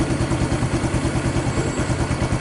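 A Honda Supra X 125 fuel-injected motorcycle engine idles close by with an uneven, pulsing chug, its beat wavering steadily throughout.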